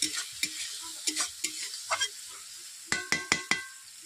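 Spice masala fries in a pan with a splash of water for a chicken dish while a spoon scrapes it in a string of sharp, close strokes, with a quick burst of scraping near the end.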